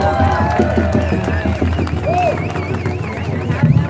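Crowd at an outdoor Freedom Convoy gathering at the Osoyoos border cheers and claps for a singer-songwriter, a steady wash of applause with whoops and a vehicle horn sounding over the noise.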